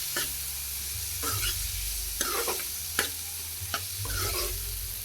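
Garlicky aubergine bharta stirred and mixed in a sizzling pan, several scraping strokes of a spoon over a constant frying hiss, close and without talk.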